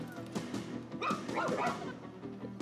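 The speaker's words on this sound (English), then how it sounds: "I get it, you're barking, but there ain't shit there." Robotic dog companion barking in the video game ReCore, a quick run of yipping barks over game ambience and effects, fairly close and moderately loud.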